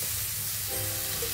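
Spices sauté for pulao in a pan with soaked, drained rice about to go in, giving a soft continuous sizzle with light stirring, close but fairly quiet.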